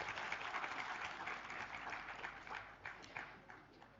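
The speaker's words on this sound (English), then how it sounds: "Can we have a huge round of applause for Mr." Audience applause at a TEDx talk event, a dense, steady wash of many hands clapping that carries on for several seconds at moderate loudness with no voices over it.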